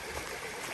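A stream on the Appalachian Trail pours over big rocks into small pools, giving a steady, close rush of broadband water noise with no pauses and no voices.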